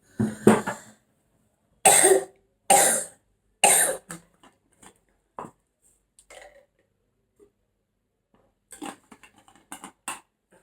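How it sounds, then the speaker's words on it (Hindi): A woman who is unwell coughs several times in short bursts: single coughs, then a quick run of three, then scattered throat clearing and softer coughs, close to the microphone in a quiet room. "आई एम नॉट वेल, तो इसीलिए खांसी हो रही है मुझे।"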